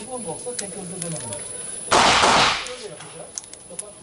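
A single sharp, loud shot from a Colt Python revolver fired at a target set at 10 meters rings out and decays, with someone talking before and after it.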